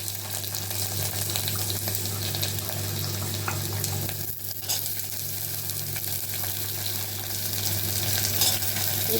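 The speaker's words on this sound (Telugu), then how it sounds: "ఉల్లిపాయలు వేయండి, వేగుతూ ఉన్నది." Onions sizzling in a pressure cooker, a steady close frying hiss with a constant low hum beneath it, without talk.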